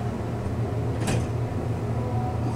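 A Westinghouse traction elevator door slides with a brief swishing rattle about a second in, set against a steady low hum of the elevator car.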